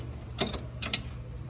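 A socket ratchet tightens bracket bolts on a Honda Rancher ATV's solid rear axle, giving two short, sharp clicking bursts about half a second apart over a low background hum.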